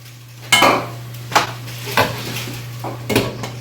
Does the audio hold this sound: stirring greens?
yes